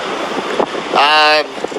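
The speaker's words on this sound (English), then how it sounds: "It is extremely windy out here." Strong wind outdoors near a border port of entry roars and buffets the microphone in a constant rushing noise, with a brief voice rising over it partway through.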